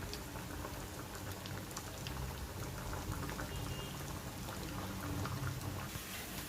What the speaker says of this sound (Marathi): आणखी दुसरी बॅच पण आपण तळून घेऊया.